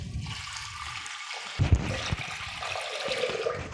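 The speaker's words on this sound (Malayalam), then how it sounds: "ഇനി ഇതിലേക്ക് നമുക്ക് ആവശ്യത്തിന് വെള്ളം ഒഴിച്ചു കൊടുക്കാം." Water gushes and splashes into a cooking pot of sambar nearby, a continuous pour with a heavier splash partway through and trickling afterward.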